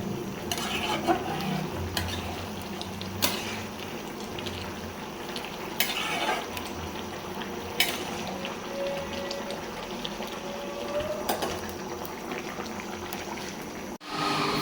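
Soybean curry bubbling and sizzling in a pot, with intermittent clinks and scrapes of stirring over a steady simmering hiss, close and without talk.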